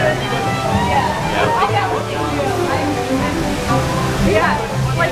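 Rushing, continuous splash of a waterfall beside the Splash Mountain flume ride at Magic Kingdom, a steady close wash of water with riders' voices faintly mixed in.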